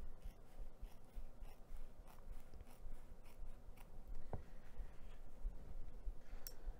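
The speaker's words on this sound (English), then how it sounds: "take the duckbill scissors and I'm gonna cut one of the seams in half" Duckbill scissors cut through a fabric seam on a bag, making quiet, scattered snips and soft rubbing scrapes at close range in an otherwise hushed room.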